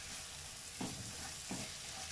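Mutton roast masala for a spicy Kerala-style dish being stirred in a hot pan, a continuous sizzle broken by two distinct scraping strokes of the spoon, close and alone.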